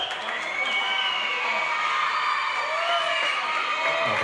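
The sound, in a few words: squash match crowd cheering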